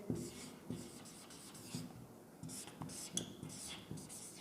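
Chalk or marker writing on a board, a run of short scratchy strokes with brief pauses between words, fairly close, over faint room noise.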